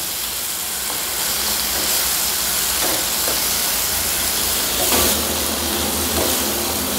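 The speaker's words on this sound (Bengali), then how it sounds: "এবার জিরা ধনেটা আমি জলে ভিজিয়ে রেখেছিলাম সেটা দিয়ে দেবো" Water-soaked cumin and coriander hit hot masala in a pan for a chicken dish, giving a loud, continuous hissing sizzle with a few small clatters from stirring, and no one speaking.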